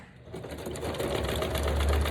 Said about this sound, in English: I'm just going to give it a quick stitch around the back